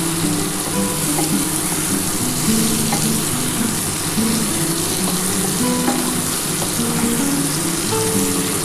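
Ash gourd pieces fry in oil for an old-style vegetarian dish, giving a steady, close sizzle with occasional stirring scrapes and faint bubbling and no voices.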